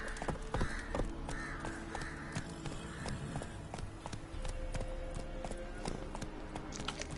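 Horse hooves galloping in the video game The Witcher 3, a steady run of fairly close clip-clops with faint bird caws and a breathy ambient bed behind them.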